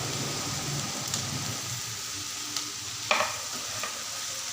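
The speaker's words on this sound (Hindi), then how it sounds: "अब हम इसके अंदर टमाटर डालेंगे।" Tomatoes go into browned onions frying in a pan for bhindi masala, and a continuous close sizzle hisses under soft stirring, broken by a couple of faint spoon clicks, with no voices.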